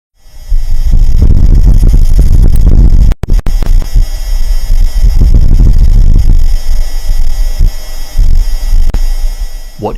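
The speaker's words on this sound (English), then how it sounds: "What you just heard is an actual gust of wind on the surface of Mars." Gusty wind on the Martian surface captured by NASA's Perseverance rover in February 2021, a loud, continuous low rumbling roar with throbbing surges and one brief dropout partway through.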